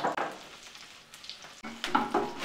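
Onions fry to crisp brown in a pan for a lentil dish with chickpea greens, with a steady hiss broken by stirring scrapes and brief louder sizzling bursts.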